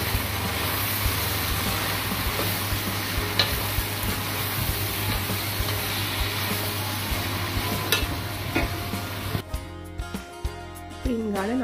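Onions sizzle and fry in a pan for Sri Lankan fish rolls, a continuous close crackle with occasional stirring clatter, growing busier and clinkier near the end.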